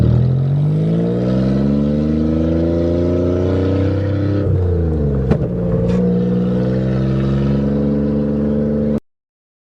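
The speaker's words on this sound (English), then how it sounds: "Now I'm going to show you what gearing down is." A manual Toyota engine is heard up close while gearing down, its strong harmonic drone falling in pitch, then briefly dipping at a gear change before climbing and settling again, cutting off abruptly.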